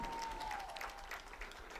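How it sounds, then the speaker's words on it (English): Spectators at an MIAA women's soccer tournament give a steady round of faint, distant applause during an all-conference team announcement, with a brief thin tone near the start. "Ladies and gentlemen, a round of applause for your all MIAA second team selections."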